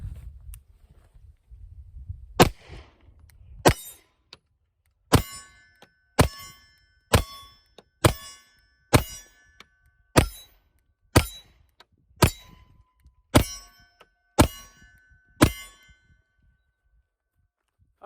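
A CZ Shadow 2 pistol fires a steady series of about a dozen shots, each ringing off steel targets with a sharp metallic clang at an even pace, outdoors with no talking.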